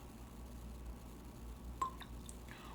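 A few drops of water fall from a small vessel into a glass of Irish whiskey, Jameson or Writers Tears, giving soft, close, faint drips and a tiny plop over quiet room tone.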